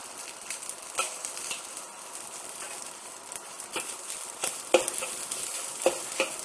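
Eggs go back into fried rice in a very hot cast iron wok, giving a close, steady sizzle with scattered sharp pops and clatters as the rice is tossed and stirred.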